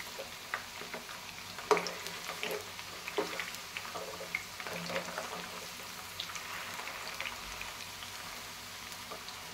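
Spiral-cut potato twisters fry in hot oil after being turned, with a soft continuous bubbling sizzle and occasional light knocks, fairly quiet with no voices.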